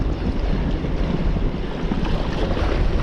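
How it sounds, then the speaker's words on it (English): Strong autumn wind whipping across coastal water during bass lure fishing, a loud continuous roar buffeting the microphone with a faint wash of waves beneath, no talking. "It's whipping right across here, just making casting a little difficult."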